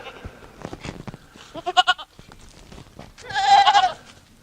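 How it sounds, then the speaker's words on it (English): A Boer goat bleats in a short stuttering burst, then lets out a longer, louder wavering bleat, with faint background noise between. "you'll see a couple of boar goats in here"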